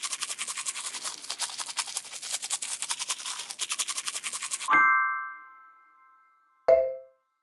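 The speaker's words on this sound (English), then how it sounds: "Put toothpaste on the toothbrush. Help Peppa brush her teeth." Electric toothbrush buzzing in a rapid steady rhythm while brushing teeth in a Peppa Pig children's game, stopping abruptly and followed by two bright chime tones, one ringing out and a shorter one a moment later.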